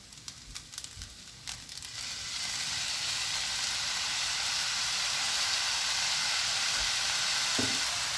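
Fried rice with soy sauce being stirred in a pan, starting with a few scraping and tapping strokes before settling into a loud, continuous sizzle that fills the rest of the moment.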